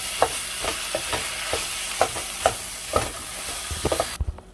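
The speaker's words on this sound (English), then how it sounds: "I'm going to hit it with about a pound of ground beef. And I'm going to brown it" About a pound of ground beef with onions browns in a pan, giving a steady loud sizzle broken by repeated scraping knocks as it is stirred, ending in a few quick taps before cutting off.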